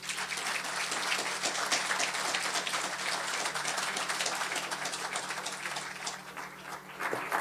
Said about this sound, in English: join me in giving an enthusiastic round of applause to this year's recipient of the Emerging Public Intellectual Award